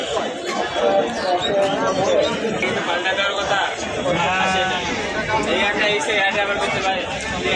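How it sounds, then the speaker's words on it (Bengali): Goats, including a Haryana breed, bleating repeatedly and loudly amid busy crowd chatter and overlapping voices at a goat market, the calls rising above the noise throughout. "আরো একটি সুন্দর সাইজের ছাগল আমাদের দেখাই।"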